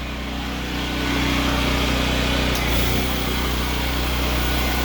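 A Ridgid 6800W generator powers a running air compressor, giving a steady, loud mechanical drone with a low hum that builds slightly after the first second and holds constant throughout.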